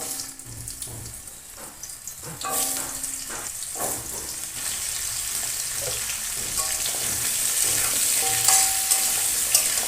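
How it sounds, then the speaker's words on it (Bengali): Potato and pumpkin pieces frying in a pan with bay leaf and dried chili, a steady hiss of oil that grows louder and denser, with intermittent scraping and stirring clinks near the start. "দেব, তেজপাতা, শুকনো লঙ্কা, তাকে ভেজে নিই। আলু কুমড়োগুলো ভেজে নেব।"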